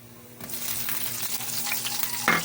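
Onions hit a hot pan and fry with a steady, close sizzle, a small clatter as they drop in, for a simple home-cooked Filipino dish; no talking.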